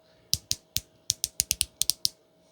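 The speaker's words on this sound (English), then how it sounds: "Also the waist turns and ratcheting." The ratcheting plastic waist joint of a Cody Rhodes WWE action figure being twisted, a quick series of about eleven sharp, dry clicks at an uneven rhythm, close and crisp.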